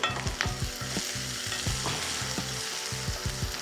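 Onions, curry leaves and green chillies fry in hot ghee with a steady crackling sizzle, punctuated by rhythmic spatula scrapes against the pan, close and fairly loud with no talk.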